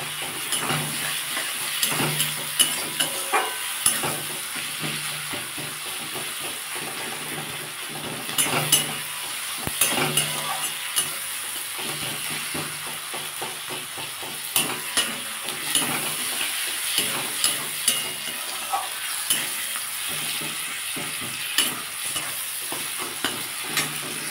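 Ginger garlic paste frying with softened onion and tomato for a green jackfruit kofta curry, a steady sizzle broken by repeated scraping stirs of a spoon against the pan, close and clear, without speech.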